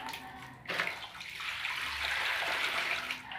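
Cricket eggs being rinsed in water, with a steady splashing and swishing wash rising after a brief pause, close and moderately loud, no talking.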